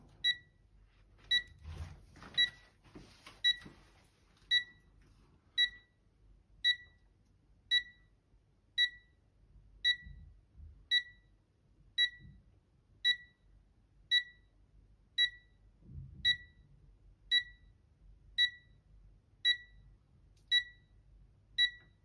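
A Puma WiFi alarm system beeps steadily during its exit delay, a regular series of short double-tone beeps at about one per second, clear and alone over faint room noise.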